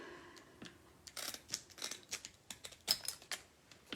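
Scissors snipping craft pieces for a handmade carrot sign: a quick, irregular run of sharp, close clicks and snips, some in fast bursts, with no voices.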